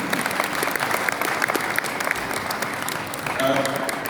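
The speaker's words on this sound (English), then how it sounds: "I think that deserves a round of applause." A round of applause from an audience, steady dense clapping that holds evenly throughout, with a voice briefly cutting in near the end.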